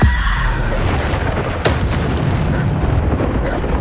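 Bombarda blasting spell in the Hogwarts Legacy video game, a loud booming explosion with a sharp burst near the middle over continuous rumbling battle noise.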